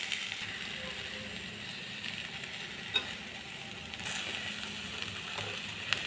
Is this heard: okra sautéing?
yes